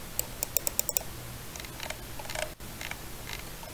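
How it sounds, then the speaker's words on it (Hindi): Sharp, close clicks from a Lenovo 300 computer mouse button come in a quick burst of about seven evenly spaced presses, followed by softer, scattered ticks against a quiet room background. "इसकी क्लिक्स की साउंड बहुत ही अच्छी है"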